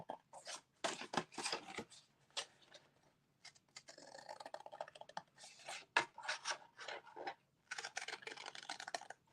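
Quick, crisp snips of dull scissors cutting through stiff cardstock, coming in irregular bursts with short pauses between, close and fairly clear.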